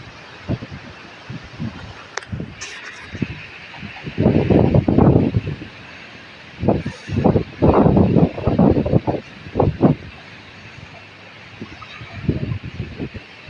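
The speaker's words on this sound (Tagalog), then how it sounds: "masyado malakas ang hangin" Strong wind buffets the microphone outdoors beside a parked motorcycle, coming in loud rumbling gusts that swell and drop across the stretch over a steady airy background.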